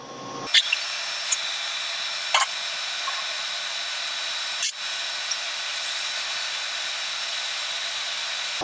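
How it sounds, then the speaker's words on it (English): Steady whine of a power drill boring out a 60-year-old stud with a stepped bit on a 1964 Caterpillar D8H dozer's T14 turbo, running continuously with a few sharp clicks and brief bumps where the bit catches. "Looks like he's going to go 2 steps on his drill bit."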